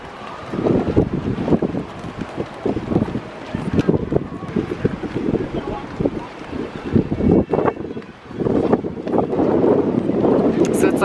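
Steady wind buffets the microphone on an open cruise ship deck, Norwegian Breakaway, a loud continuous rush with gusty swells throughout, and voices talk faintly underneath.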